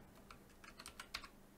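Quick, light keystrokes on a computer keyboard, a short burst of soft irregular clicks at low level in a quiet room, with no voices.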